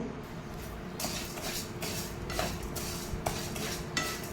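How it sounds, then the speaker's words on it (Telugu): Black urad dal being roasted in a little oil in a pan, stirred with a metal spoon that scrapes and clinks in several distinct strokes over a steady low background hiss, with no talking. "లైట్గా కలర్ చేంజ్ అయ్యే వరకు వేయించుకోవాలి"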